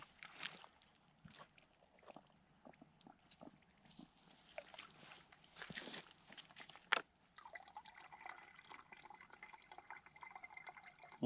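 Water drips and trickles through a camping water filter into a drinking bottle during an overnight snow camping trip at Martin's Fork Lake, a quiet, uneven run of close small drips and splashes that turns into a steadier faint trickle.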